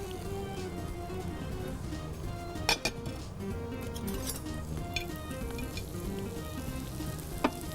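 Seekh kebabs frying in a pan, a steady close sizzle of hot oil broken by a few sharp clinks and taps of a utensil against the pan, no voices present.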